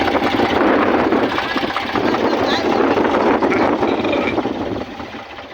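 A tractor engine runs steadily on a cotton field while cow-dung manure is loaded, a loud continuous rumbling drone with wind buffeting that eases slightly near the end.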